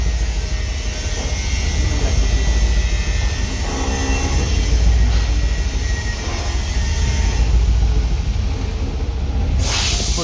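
A 2015 Mercedes E63 4MATIC with 203,000 km idles at a check-up, a steady, continuous engine rumble with broadband hiss throughout, unchanging and fairly loud, with no talk over it.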